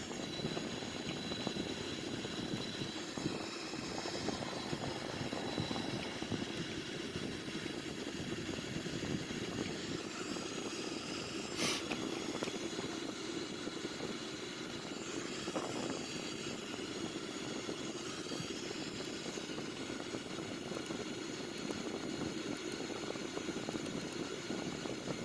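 A Sukhoi Su-30M2 jet cruising near Mach 0.76 at 30,000 feet in a flight simulator game, a steady, continuous engine roar and airflow rumble holding level throughout with no voices.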